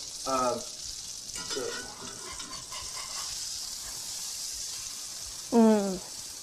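Cashew-crusted steelhead fillet sears in a hot pan with a steady, soft hiss of frying, broken by short bursts of voices speaking nearby.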